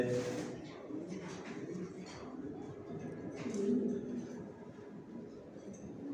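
Racing pigeons in a loft keep up a low, continuous cooing murmur, fairly faint and blended with general room noise.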